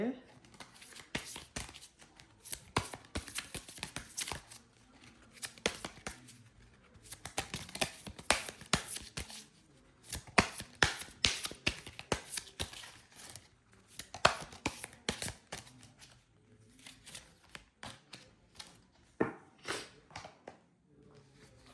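Tarot cards shuffled by hand in irregular bursts of rapid riffling and flicking, close and crisp, with short pauses between rounds and stretches of someone talking over and between the shuffles.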